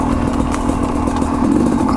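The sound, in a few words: Sherco 250 SE two-stroke dirt bike engine in third gear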